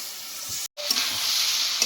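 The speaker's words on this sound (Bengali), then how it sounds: "আর একটু জল দিয়ে মশলাটা ভালো করে কষিয়ে নেব" Spiced masala for a rohu-style bata fish curry with potato and cauliflower fries in a pan with a splash of water, sizzling and stirred steadily with a brief gap of silence near the start.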